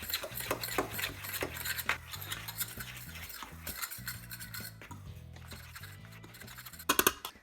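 Pancake batter for lemon ricotta pancakes gets stirred together in a bowl with a utensil instead of a whisk, with repeated scraping and clinking strokes over soft background music, with a sharper clatter near the end.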